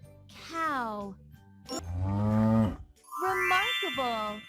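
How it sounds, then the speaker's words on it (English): A cow moos three times in a row, with long drawn-out lowing calls that sound loud and close, each separated by a brief pause. "Cow."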